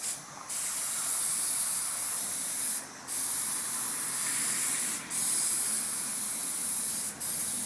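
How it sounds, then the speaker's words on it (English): A Plasti-Dip spray can fitted with its regular stock nozzle sprays steadily in a body and paint shop, a loud continuous hiss broken by three brief pauses between passes. "I'm actually going to spray one section with the regular nozzles"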